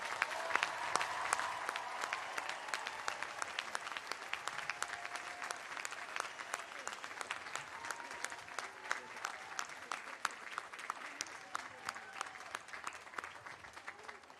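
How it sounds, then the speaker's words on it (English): A graduation ceremony audience applauds continuously, a dense, even wash of many hands clapping at moderate distance that holds steady throughout without pause. "Please turn and offer a round of applause to all of those who made this possible."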